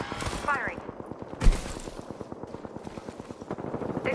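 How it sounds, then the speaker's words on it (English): Rapid automatic gunfire in the Apex Legends battle royale game, with dense repeated shot bursts throughout and one louder blast near the middle, set among other game sounds. "They spotted me. I'm taking shots. Second squad is firing at us."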